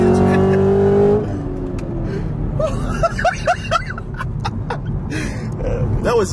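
A boosted Corvette roars hard under acceleration for the first second, then the engine drops back to a lower drone beneath excited gasps and vocal reactions from the occupants inside the car.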